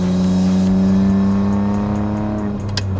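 A manual Ferrari 575M Maranello sports car drives on a racetrack in South Africa, its engine producing a loud, sustained, close drone with a steady pitch that dips slightly toward the end.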